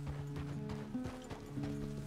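Horse hooves clip-clopping at a steady walk in the Western video game Red Dead Redemption 2, a soft rhythmic plodding under a low game soundtrack drone.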